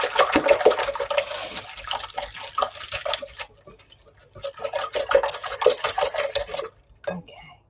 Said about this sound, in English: Whisk up the eggs. Break them up.